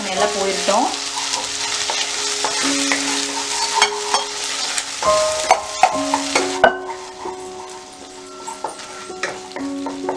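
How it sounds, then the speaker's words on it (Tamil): Ginger garlic paste sautéing in hot oil over medium heat for a black pepper chicken roast: a steady close sizzle runs throughout, punctuated by frequent scraping strokes of a spoon stirring the pan, with no talking. "இப்போ வந்து இதை மிதமான தீயில வச்சு இந்த எண்ணெயில் வந்து நல்லா இது பண்ணி விட்டுருங்க, வதக்கி விட்டுருங்க."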